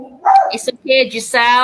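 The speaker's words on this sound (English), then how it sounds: "Sorry for my dog barking." A pet dog barks and yips in short bursts close by, mixed in with a person talking.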